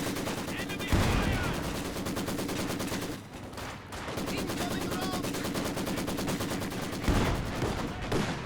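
Heavy machine-gun and rifle fire in a Company of Heroes 2 battle, sustained rattling bursts with a couple of sharper louder shots and a short lull midway.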